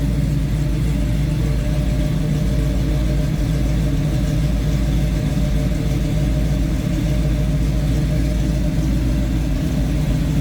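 A 1968 Chevrolet Nova two-door coupe with a 427 V8 idling close by, giving a steady deep rumbling burble that holds at a constant loud level throughout with no talk.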